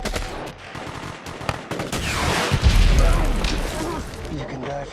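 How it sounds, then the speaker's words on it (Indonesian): Sustained gunfire rips through a firefight scene in the film Lone Survivor, rapid overlapping shots and heavy booms filling the five seconds, loud and close, with voices mixed in. "adu tembak pun berlanjut."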